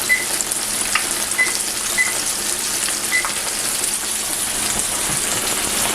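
Bonefish sizzles steadily in hot oil, a constant close crackle with occasional faint pings over the frying.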